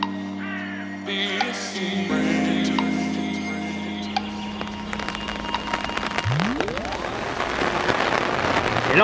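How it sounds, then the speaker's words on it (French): Sudden heavy rain pours down in a garden in South Korea, a steady hiss of drops on surfaces building in intensity, mixed with background tones and other ambient sounds. "il s'est mis à pleuvoir sa mère. À pleuvoir sa mère d'un coup."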